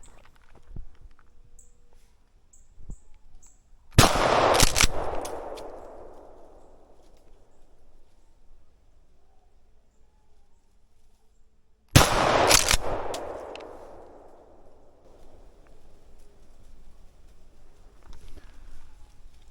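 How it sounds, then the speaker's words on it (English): Two loud shotgun blasts fired at a squirrel during a late-winter hunt in the woods, each a sharp crack followed by a long fading echo, spaced about eight seconds apart with quiet outdoor ambience between. "Now I'm just waiting for a perfect opportunity to take my shot."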